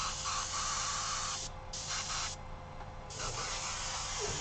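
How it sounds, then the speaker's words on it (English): An airbrush sprays black paint through a stencil onto a trucker hat, giving a close, steady hiss that cuts out briefly twice and then resumes, with a low mechanical hum underneath. "And spray in black, and that will just finish that one up really quickly."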